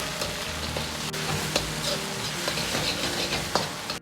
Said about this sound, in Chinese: 炒香后放入少许的香辣酱，炒出颜色，炒出香味